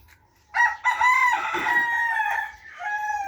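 Brahma breeder chickens in a pen, a rooster's close, loud crow lasting about two seconds, followed by a short cluck.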